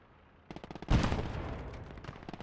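A tank gun fires from an M3 in the WWII strategy game Gates of Hell: Ostfront: one heavy boom with a long rumbling tail, set against a steady rattle of battle noise.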